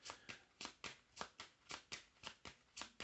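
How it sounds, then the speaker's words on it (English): A deck of tarot cards being riffle-shuffled by hand, a quick run of about eleven crisp, papery bursts in steady rhythm, close up and fairly quiet, with no talking. "I'm going to shuffle up my cards here"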